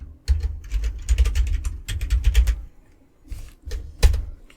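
A search query being typed on a computer keyboard: bursts of quick, close key clicks separated by short pauses, with a single louder keystroke near the end.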